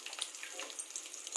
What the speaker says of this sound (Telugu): కొద్దిగా పసుపు వేసి ఆయిల్ ఫ్రై చేయాలి।